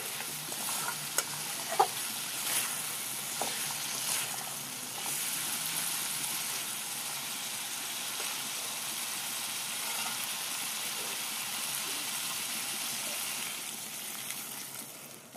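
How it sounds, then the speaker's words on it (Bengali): Rohu fish with spices frying in a pan for a curry with beans and potatoes, a steady sizzle and crackle lasting throughout, with occasional stirring clinks near the start. "এরকম সব ভালো মতো ভেজে নেব মশলাটা দিয়ে"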